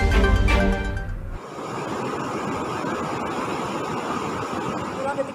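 Flash flood water rushes down the Kaligung river in Balapulang, Central Java, a loud, continuous roaring wash that follows a brief burst of other noise at the start.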